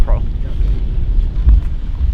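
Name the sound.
strong wind blowing on a lake while fishing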